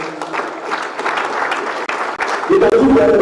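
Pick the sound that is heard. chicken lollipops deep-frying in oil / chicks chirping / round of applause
round of applause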